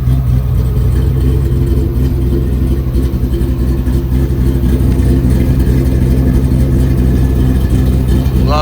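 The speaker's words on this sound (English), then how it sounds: "It's got Flowmaster exhaust." A 1956 Chevrolet Bel Air engine with Flowmaster exhaust idles with a deep, loud rumbling exhaust burble, steady and throaty throughout, close by with no talking.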